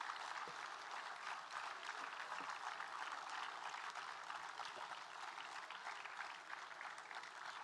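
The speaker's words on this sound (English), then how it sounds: "Let's give them a huge round of applause for their relentless efforts." Audience at a school day event applauding the backstage crew and art students, a dense, sustained round of clapping from a large indoor crowd, steady from start to finish.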